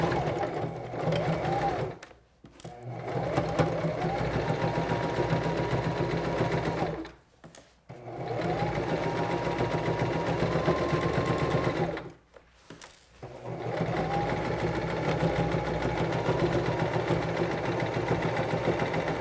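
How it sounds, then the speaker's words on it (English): A Singer 1234 sewing machine runs in three long steady stretches while stitching the side seams of a fabric tote bag, its motor humming with a fast needle clatter, separated by brief pauses, close and alone. "I'm going to go and sew up both side seams of my bag"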